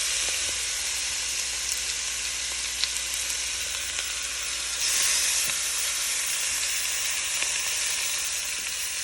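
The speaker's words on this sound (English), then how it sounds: "we are going to sear our chicken breasts, both sides, 3 to 5 minutes" Loud, steady sizzling of chicken breasts searing in a hot pan on medium heat, a continuous crackling hiss with small pops throughout.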